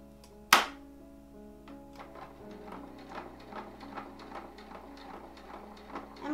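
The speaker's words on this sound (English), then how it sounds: "we're gonna go ahead and sew this up" A sewing machine stitches along the cut edge of a skirt for homemade clothing, a soft steady whir with faint rapid ticking after an initial sharp knock, close and alone.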